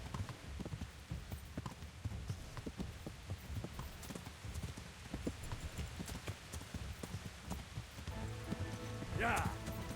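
Hooves beat at a galloping clip-clop rhythm, moderately loud and steady, for a prized horse being ridden in a battlefield video game, with a voice speaking over the hoofbeats and a brighter ringing burst near the end.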